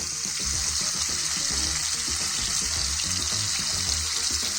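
Chicken gola kebabs fry in warm oil in a pan, giving a steady, close, dense sizzle that runs unbroken from start to finish, with a soft low bubbling underneath.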